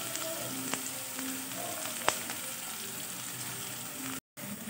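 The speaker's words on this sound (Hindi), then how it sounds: "इसे थोड़ा सा फ्राई करूंगी मैं" Chopped onions sizzle steadily in a hot pan, not yet translucent, a dense even crackle with a few sharp ticks from a spoon, close and alone without talk.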